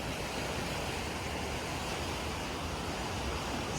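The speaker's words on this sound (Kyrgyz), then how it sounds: "Акбура монтип дагы эле агып атат." The Ak-Buura river in Osh, running high after a mudflow, gives a steady dense roar of rushing water, loud and unbroken, with no voices.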